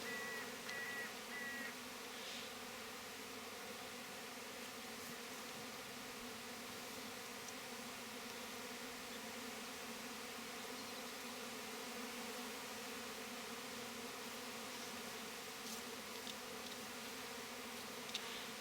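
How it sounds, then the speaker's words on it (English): Honey bees swarm from a hive in May, drifting around hedges with the old queen. A steady, dense buzzing of many insects hums close by and holds at an even level throughout, with no voices. "There's a few bees here thinking they were going to clear off with the old queen sitting around on these hedges."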